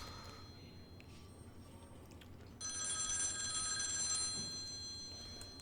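Telephone ringing in The X-Files Game (1998), a bright electronic ring that starts partway through and holds steady before fading slightly, heard over a quiet room hum.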